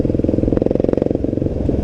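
A Voge 300 Rally motorcycle with an ABS fault idles close by, a steady low throbbing engine pulse with light mechanical clatter, heard alone.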